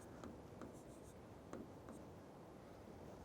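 Chalk or marker scratching out letters on a board during a Hindi spelling lesson, a few short strokes with brief pauses, close and faint under steady room noise.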